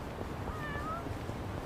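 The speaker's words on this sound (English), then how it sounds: "Grab this cat around here." A single meow from a cat in the video game Yakuza: Like a Dragon comes through clearly at moderate volume over steady background game ambience.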